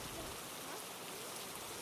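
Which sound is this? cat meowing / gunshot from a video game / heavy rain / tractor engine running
heavy rain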